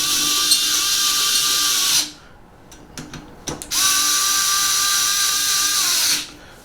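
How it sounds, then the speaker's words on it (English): Ryobi lithium cordless drill with a T25 bit driving screws during 3D printer assembly, two loud sustained high whines each about two seconds long, separated by brief clicks and handling noises. "I'm going to use a Ryobi lithium with a T25 on it."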